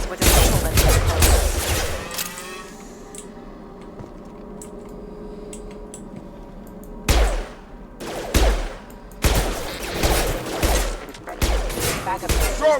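Rapid bursts of gunfire from a Mass Effect 2 firefight, dense volleys at the start, a lull with a faint background hum, then fresh clusters of shots returning loud and close.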